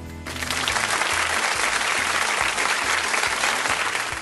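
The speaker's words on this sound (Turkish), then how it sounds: "Böyle sizi doyuracak bir şey olunca Mercan'cığım, farkındayım, daha çok alkışlıyorsunuz." A studio audience at a cooking show breaks into sustained, dense applause for the host, loud and steady for several seconds with no talking over it.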